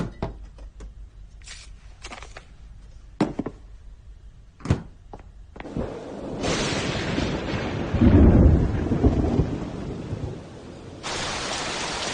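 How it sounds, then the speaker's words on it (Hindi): Sharp cracks of thunder and scattered bangs give way to heavy, steady rain pouring down, with a deep rumble of thunder rolling through midway. "कैसा मौसम है, बीच में बारिश कहाँ से आ गई?"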